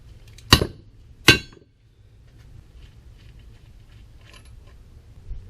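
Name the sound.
hammering steering knuckle off Chevrolet Tahoe lower control arm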